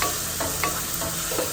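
Lo mein vegetables frying in a pan on a camp stove, a steady close sizzle with a few louder stirring scrapes breaking through, no voices.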